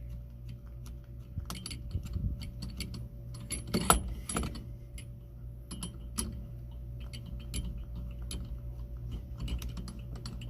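A wrench works at the steering wheel nut of a classic car, giving sparse, faint ratcheting clicks and metallic taps that come in irregular bursts over a quiet background.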